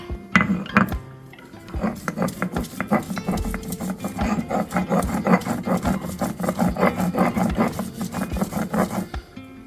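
Grated coconut being ground on a traditional grinding stone for a Bengali potol dish, a steady rasping, scraping rhythm of repeated strokes close by, continuing without pause and with no talking.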